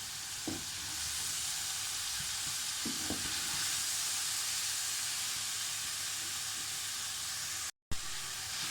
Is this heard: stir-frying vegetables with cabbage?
yes